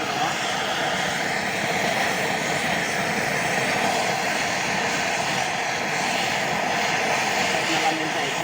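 A torch roars steadily, heating a copper pipe on an AC compressor to melt the joint free, a loud continuous rushing hiss with someone talking over it.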